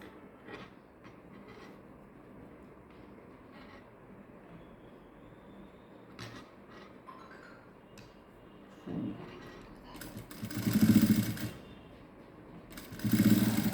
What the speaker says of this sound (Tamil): இப்படியே தைச்சிட்டு வாங்க